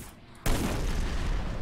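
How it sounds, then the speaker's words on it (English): A sudden loud explosion in the video game Hitman: Blood Money bursts in after a quiet moment and rolls on as a dense, sustained roar of debris and rumble. "Epic explosion as I walk away."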